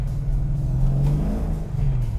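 A custom 1971 Plymouth Cuda with a 485-horsepower engine rumbles deeply as it accelerates, its low engine note rising and then easing between gears, heard steadily from inside the car.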